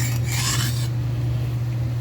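Knife edge rubbed on a natural Arkansas sharpening stone, a continuous soft rasping scrape that is brighter for the first second, over a steady low hum.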